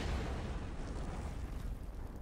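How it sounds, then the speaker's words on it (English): Explosions from the Star Wars film Rogue One, heard as a loud continuous roaring rumble of blasts with no clear separate bangs, dense and steady for the short stretch, with no talking over it. "There are a lot of explosions,"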